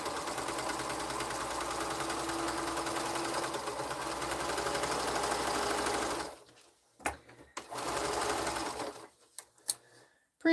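A sewing machine stitches quilt pieces together in one continuous, fast-whirring run lasting several seconds, followed by a couple of short bursts broken by pauses and light handling clicks. Close and fairly loud, with no talk.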